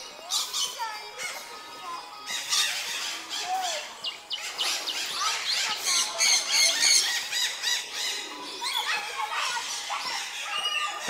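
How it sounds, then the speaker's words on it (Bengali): Many birds chirp, squawk and tweet at once in the Parmadan forest bird sanctuary, home to several pigeon species: a dense, busy chorus of overlapping calls, steady and close. "দেখো পাখিদের কিচিরমিচির শব্দ কিন্তু তোমরা অলরেডি শুনতে পাচ্ছ।"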